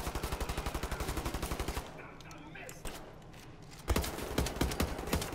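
Rapid automatic gunfire from the shooter game Wolfenstein: The New Order rattles loudly in a steady burst, breaks off into a quieter lull, then resumes with more shots and clatter.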